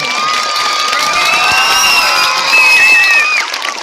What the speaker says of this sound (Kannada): ಚಪ್ಪಾಳೆ ಎಲ್ಲರೂ.